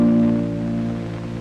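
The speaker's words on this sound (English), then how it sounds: "by plucking over the fingerboard, we can get a very mellow sound" A single guitar note plucked over the fingerboard gives a soft, mellow, rounded tone that rings steadily and fades gently over a brief moment, heard alone and up close.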